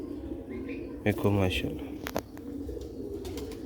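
Sialkoti pigeons, a male with two females, coo softly and low beneath someone speaking close by, with a few sharp clicks near the middle.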